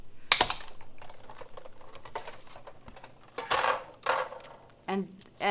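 A manual die cutting machine runs a card panel with a Stacklet die through its rollers, giving a close series of light clicking and ratcheting taps. Brief speech is heard near the end.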